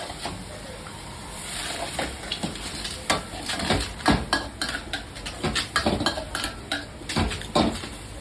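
Squid stir-fried with yellow curry in a pan at a Thai street food stall: a close, steady run of metal spatula scrapes and clanks against the pan over a low sizzle, with irregular sharp knocks throughout.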